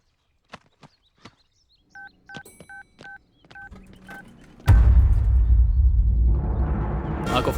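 Telephone keypad tones beep in an even series of short, clear dialing pulses, followed by a burst of louder mixed noise and movement near the end.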